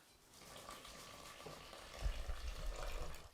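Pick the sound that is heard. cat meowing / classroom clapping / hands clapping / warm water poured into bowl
warm water poured into bowl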